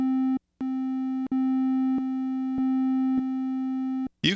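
A triangle-wave synth tone from a Roland JP-8000 or Korg MS2000 plays as a steady, mellow, slightly muted note, retriggered several times with short gaps. It is alone and clear, with a brief brighter noise at the end.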